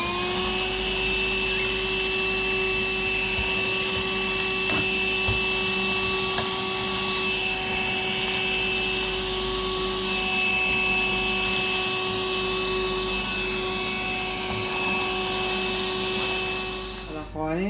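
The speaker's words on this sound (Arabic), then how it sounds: "فعندنا هذه مكنسة محمولة بتشتحن وبتم قليل يعني، بس بتأدي الغرض." A handheld rechargeable vacuum cleaner runs steadily while cleaning a bird cage, its motor giving a constant close whine with a high tone before it switches off at the end.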